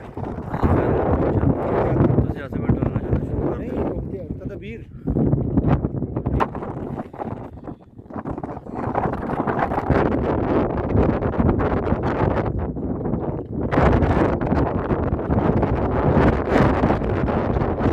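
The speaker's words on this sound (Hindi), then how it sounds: "ठंडी मीठी हवा चल रही है।" Cool wind blowing across the Malvern Hills in England, roaring hard against the microphone in loud continuous gusts with brief lulls, and faint voices now and then.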